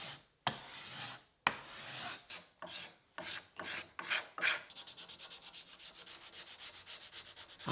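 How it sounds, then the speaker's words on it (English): The wood of a crossbow is sanded by hand in close, scratchy strokes, first in uneven passes and then in quick, even back-and-forth rubs. "I've sanded that up to 240"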